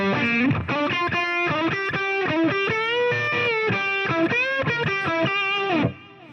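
Electric guitar lead played through a Fender Tonemaster Pro with boost, delay and reverb engaged: sustained, distorted melodic lines with bends and slides, loud and continuous until a brief tail at the end.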